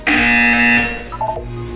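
A loud electronic buzzer in the video game Portal 2 sounds once, a steady harsh tone lasting under a second, followed by a short quieter electronic blip and a low background hum.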